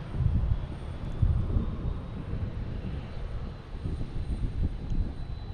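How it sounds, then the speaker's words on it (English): An Aer Lingus Airbus A330 arriving at Boston Logan from Dublin produces a continuous low jet rumble, moderately loud and buffeted by wind, with no voices. "So next to arrive, we have Aer Lingus, an A330 coming in from Dublin."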